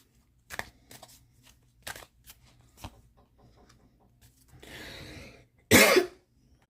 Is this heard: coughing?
yes